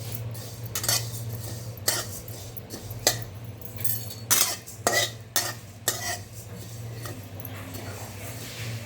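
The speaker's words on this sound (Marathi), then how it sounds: "धणे थोडे भाजून झाले त्यातच मी आता जिरे घालते." Coriander seeds, with cumin seeds then added, dry-roasting in a pan for thalipeeth bhajani flour, the spoon scraping and stirring in bursts of gritty clinks over a steady low hum, close by.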